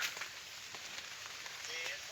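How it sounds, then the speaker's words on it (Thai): Rain falling on a rainy, dark day in Thailand, a soft continuous patter with scattered drops, heard faintly under the ambience without distinct voices. "ตอนนี้ก็ฝนตกเลย มีปอกแป๊กปอกแป๊กไหมล่ะฝนล่ะ"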